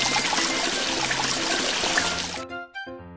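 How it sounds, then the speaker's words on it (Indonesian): Water gushes loudly and steadily from an opened tap for a couple of seconds, then the flow stops and gives way to a few short tonal chimes. "Buka keran air."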